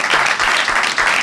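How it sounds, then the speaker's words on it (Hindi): A classroom of students claps for a classmate in a lively, uneven burst of applause that is loud and close, with no talking over it. "अभिनव के लिए भी ताली बजाओ"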